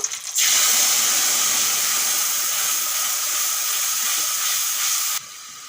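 White and black mustard paste, strained through water, hits hot oil for eggplant and hilsa in mustard sauce, erupting into a loud, steady hiss that holds for about five seconds before abruptly dropping away.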